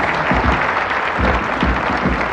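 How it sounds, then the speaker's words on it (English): Audience at a mystery writers' event claps steadily in broad, even applause that fills the room throughout, with no voices standing out. "Let's give them a big round of applause."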